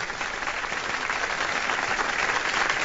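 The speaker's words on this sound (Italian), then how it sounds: "facciamo un applauso a Nunzia" Applause at an Italian stage show as a performer named Nunzia is called on, a dense, sustained wash of many hands clapping close and loud, steady throughout with no talk.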